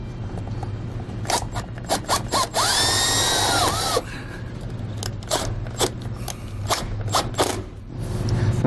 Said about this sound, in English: Take a self-tapping screw, put it right into this channel.